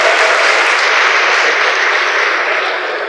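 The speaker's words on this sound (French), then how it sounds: "Applaudissez pour vous-même," Audience at a stage show claps loudly and continuously, a dense, even wash of applause with no voices over it.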